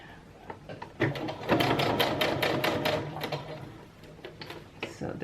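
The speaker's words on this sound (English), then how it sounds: "I'm going to keep this right up against that guide, that stitching guide, and I'm going to sew a 1/16 of an inch" A sewing machine stitches a 1/16-inch seam while fabric is held against a stitching guide, a loud quick run of rhythmic needle clacks that starts and stops in bursts, with a voice talking nearby.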